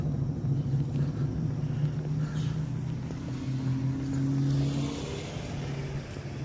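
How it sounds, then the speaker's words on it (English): A car passes at moderate distance, its engine rumble swelling and then fading as it goes by, steady and unhurried, with no voices over it. "Comes the car."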